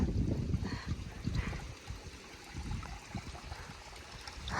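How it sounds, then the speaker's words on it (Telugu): Mountain stream near Annapurna base camp in Nepal, with close, uneven rushing and gurgling water flowing continuously and no voices. "కానీ ఇక్కడైతే వాటర్ అయితే వస్తున్నాయి"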